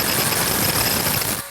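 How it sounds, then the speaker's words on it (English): A power ratchet whirs steadily for about a second and a half as it drives a compact scissor jack upward beneath a vintage Vespa scooter, the grinding buzz stopping abruptly at the end. "You don't necessarily need to have a power ratchet like this"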